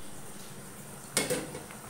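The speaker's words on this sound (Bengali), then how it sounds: "এই তো দেখতে পাচ্ছেন আমি খিচুড়ি লাড়াচাড়া করছি" A ladle scrapes once through thin vegetable khichuri in a cooking pot, a brief close stir over a steady low bubbling hiss from the stove, with no voices.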